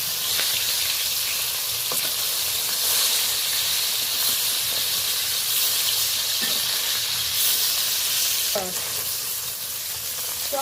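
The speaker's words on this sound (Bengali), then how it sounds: "তো মোটামুটি আমি বেশ লালচে করে 2 পাক লালচে করে ভেজে নিয়েছি মাছগুলো" Pieces of fish sizzle in hot oil in a wok, a dense continuous frying hiss with occasional light scrapes and stirring clatter, close and steady throughout.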